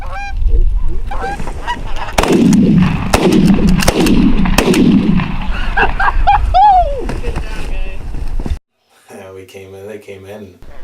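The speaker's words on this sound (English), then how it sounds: "Shane shot the one on the right, I shot 3 on the left, and then Shane shot the last one on the left." Sharp shotgun blasts crack several times in quick succession as goose hunters fire on a flock of five geese coming in, with honking geese and loud field noise around the shots, followed by a brief silence and a voice.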